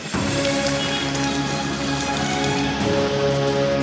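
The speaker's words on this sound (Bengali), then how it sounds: "কখনো ঝমঝমিয়ে বৃষ্টি" Heavy rain pours down in a dense, loud, unbroken roar of drops hitting a surface, with a faint steady hum underneath.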